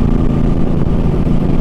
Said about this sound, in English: So this bike has the stock exhaust, and I like it.